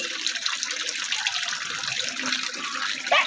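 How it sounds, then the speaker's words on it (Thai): Continuous water splashing and running at close range, bright and steady, with a sharper burst near the end, heard while playing in water with a Japanese turtle. "มาเล่นน้ำกับเต่าญี่ปุ่น"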